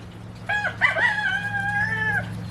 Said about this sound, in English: My bantams are chilling in the shade.